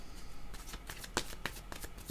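Tarot cards being shuffled by hand in a quiet room, a soft riffling patter of several quick rustles and taps across about two seconds.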